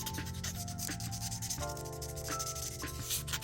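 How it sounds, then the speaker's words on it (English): Sandpaper lightly scuffing the interior of a plastic cup lid, with soft, quick rubbing strokes repeated close up and no talking. "You just want to lightly scuff up the lid."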